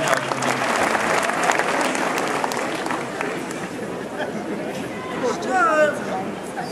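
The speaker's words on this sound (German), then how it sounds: "Einen riesen Applaus" Big crowd applause at a Bavarian televised evening show in Wallgau, dense clapping mixed with chatter and voices, fading slightly before a short swell near the end.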